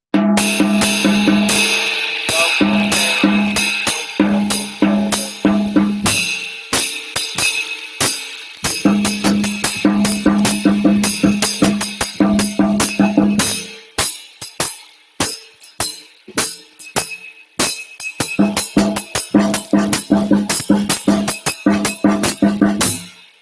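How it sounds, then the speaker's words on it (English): Fast drum sticking on a tom rolls through repeated double paradiddle patterns, loud and close, with sharp accented strokes and brief pauses between phrases. "So we're going to do a double paradiddle and then a double paradiddle starting with your left coming off the tom"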